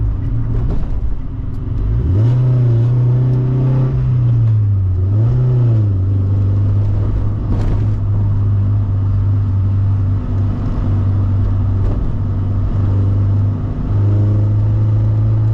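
A Toyota GT86 engine drones loud and close while driving, its pitch climbing on acceleration, dipping and rising again before it settles into a steady cruising hum with no talk.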